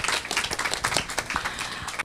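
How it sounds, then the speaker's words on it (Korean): Audience applause greets the introduction of a Yonsei University psychology professor at a climate-change psychology talk event, a dense burst of clapping lasting about two seconds before cutting off abruptly. "큰 박수로 부탁드립니다"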